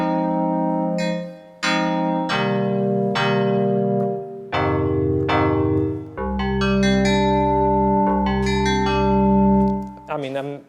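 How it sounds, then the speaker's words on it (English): Classic FM synth tones from a Sinevibes plugin on a Korg synth, a sequence of bright, bell-like struck notes with ringing metallic overtones, layered and sustaining into chords, played alone without talk. "it actually sounds very, very seriously like a classic FM synth"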